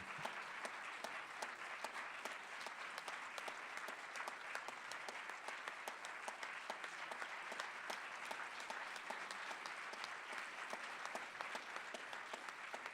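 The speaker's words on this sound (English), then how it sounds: "So please receive with applause Cosmina, Stratan, and Cristina Flutur" An audience at a film Q&A applauds to welcome two lead actresses, a continuous dense clapping that stays even and moderately distant for the whole stretch.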